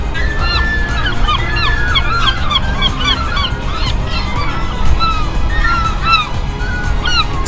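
Seagull calls from a coastal setting, a busy chorus of many overlapping squawking, honking cries repeating through the whole stretch over a steady low rumble of background noise.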